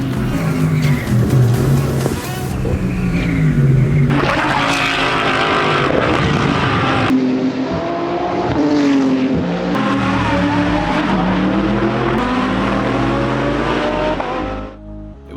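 Race cars tear around a track at a speedway event with roaring engines, shifting pitch as they pass, and tire squeal, loud and continuous throughout.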